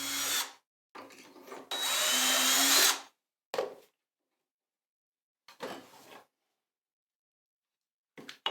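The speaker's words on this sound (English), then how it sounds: "drilling out a pilot hole into the front face of piece A at the center position to the depth of the screw insert" A power drill bores a pilot hole into the front face of a wooden piece while a router plane is being made from simple tools. Several short whirring bursts come close and loud, with one longer run and quiet pauses between them.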